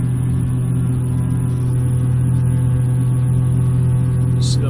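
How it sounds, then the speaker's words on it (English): Twin-engine Cessna F406 turboprop in Flight Simulator X, its propeller drone rising as RPM climbs, a steady loud tonal hum with strong low harmonics that holds without pause. "So the prop RPM went way up."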